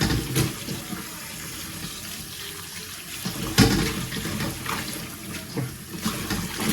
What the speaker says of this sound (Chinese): 咱们给它冲洗干净。